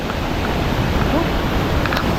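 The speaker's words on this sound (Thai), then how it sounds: "ตอนนี้ฝนตกลงมาเปียกมากเลยนะครับ" Heavy rain pours at Chakdin waterfall, a steady, dense hiss of falling water close around with no breaks, rushing cascade blended into the downpour.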